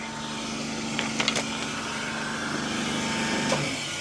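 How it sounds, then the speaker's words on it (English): A pressure washer runs steadily while a KTM 890 SMT motorbike is cleaned, a continuous close droning hiss with a few brief clanks and knocks, no talking. "let's turn that pressure washer off"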